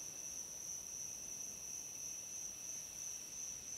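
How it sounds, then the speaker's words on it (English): Steady crickets chirping through a dark night in the survival game Escape the Pacific, a constant high-pitched trill holding evenly across the whole stretch with no other sounds over it. "Although those crickets could get very annoying."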